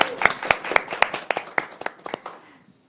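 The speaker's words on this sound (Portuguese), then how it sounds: "Uma salva de palmas para ela," A small audience claps through a short burst of applause for a journalist guest on a television programme, sharp separate hand claps close by, slightly irregular and thinning out toward the end.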